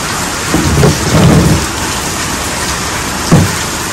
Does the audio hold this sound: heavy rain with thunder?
yes